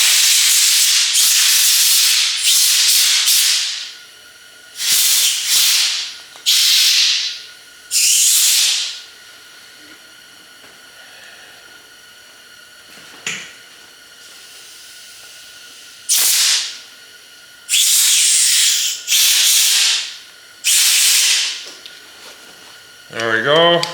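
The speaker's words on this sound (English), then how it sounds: "I also grabbed a little bit of compressed air here just to blow things up" Compressed air blasts through a carburetor during a rebuild on a Scout, about ten sharp hissing bursts of varied length separated by short quiet gaps, loud and close.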